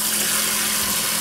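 Steady rush of tap water wetting a brass case mid-polish, a continuous broadband hiss with a low hum beneath, close and unbroken for a moment.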